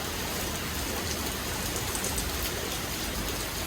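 Steady, dense tropical downpour in Bali pouring down in a continuous broadband hiss, close and even throughout with no pauses.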